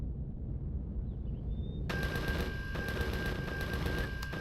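Turrets in the Empyrion space game open up on enemies with sudden rapid automatic fire, a dense rattling stream of shots that starts abruptly after a quiet moment and continues steadily.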